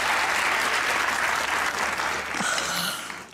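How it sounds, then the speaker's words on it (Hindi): A studio audience on a comedy talk show applauds warmly, a dense, steady wash of clapping that holds for a few seconds and then eases off. "वेरी गुड भाई, वाह वाह वाह वाह, तालियां"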